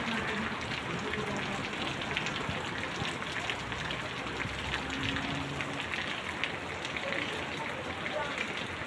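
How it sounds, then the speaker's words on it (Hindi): Light drizzle falls steadily as a soft, even hiss of patter that stays at a constant level throughout, with no distinct thunder or gusts. "ये देखिए, रिमझिम रिमझिम रिमझिम रिमझिम बारिश हो रही है"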